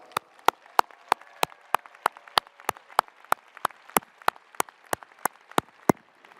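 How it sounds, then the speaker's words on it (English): At a university graduation ceremony, one close clapper beats out sharp, evenly spaced claps about three per second, with only faint crowd sound between the hits. "Graduates, please join me in giving your families and friends an enormous"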